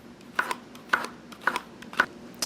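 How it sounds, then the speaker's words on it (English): A knife chops through three big portobello mushrooms on a board, cutting them into small pieces with five crisp, evenly spaced strokes about half a second apart and nothing else in the background. "we have here 3 big portobello mushrooms, and we're just going to chop these into small pieces"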